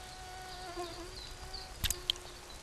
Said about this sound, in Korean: 잠시 균형을 잃을 뿐 모기는 다시 날아오릅니다